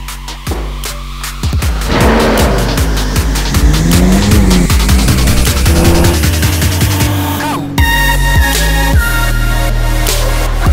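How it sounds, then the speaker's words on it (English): A McLaren sports car is driven hard, its engine loud and close as it revs through repeated gear changes, rising and falling sweeps with tire noise, continuous over the whole stretch with no talk. "Actually, let's take the McLaren."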